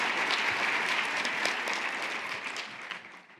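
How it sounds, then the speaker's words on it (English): An education conference audience gives Michigan's students a loud, dense round of applause, heavy continuous clapping that stays strong and then begins to taper off at the end. "that was the loudest round of applause we had this morning"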